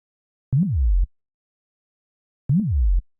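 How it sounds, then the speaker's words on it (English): Two short, deep synth bass notes, each with a quick pitch swoop, separated by silence, loud and alone. "So the next thing we have here is the bass"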